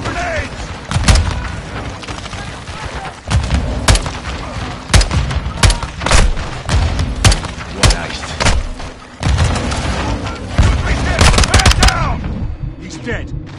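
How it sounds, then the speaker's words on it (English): Grenade launches and gunfire in Call of Duty Modern Warfare II: loud bursts of automatic fire and sharp booming blasts in irregular clusters, with shouting voices mixed among the shots. "Incoming! Take cover! They're launching grenades!"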